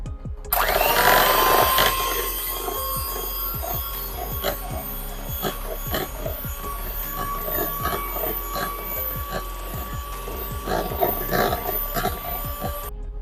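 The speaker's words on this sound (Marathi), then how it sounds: "आता आपल्याला ही दोन ते तीन मिनिटासाठी चांगली व्हिप करून घ्यायची आहे" Whipping cream being beaten with an electric mixer in a bowl for homemade vanilla ice cream, a steady motor whir with rattling clatter against the bowl running continuously throughout.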